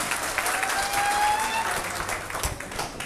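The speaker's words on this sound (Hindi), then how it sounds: "एक बार ताली बजा दियो जोरदार" A crowd at a Hindi-language poetry performance in Malaysia claps loudly on request, a lively burst of many hands that swells then thins, with a voice speaking over the tail end.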